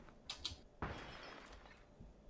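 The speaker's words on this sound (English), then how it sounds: "You guys breaking glass?" Glass shatters in a burst inside a PlayerUnknown's Battlegrounds match, a sharp broadband crash followed by a short decaying scatter of shards, with a few faint ticks before it and no talk over it.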